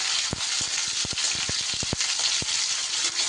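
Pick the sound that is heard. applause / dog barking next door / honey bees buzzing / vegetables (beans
vegetables (beans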